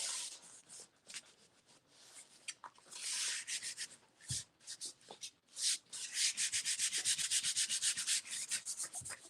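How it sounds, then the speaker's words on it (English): Paper being rubbed firmly by hand over a gelli printing plate to lift a print: a close, dry, scratchy brushing in repeated strokes, growing louder and more continuous toward the end, with no talking. "And we'll lift this up and we'll give it a good rub."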